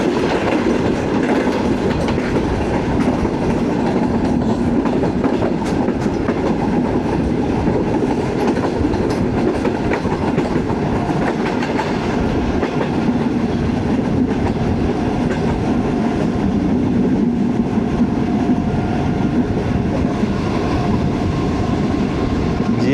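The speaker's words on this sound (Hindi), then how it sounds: "दोस्तों स्लो हो रही है ट्रेन जिया बग्गा के पास।" A Pakistani Greenline passenger train slows near Zia Bagga, its wheels clattering over rail joints in a steady, loud rumble heard from inside the economy class coach, continuous for the whole stretch.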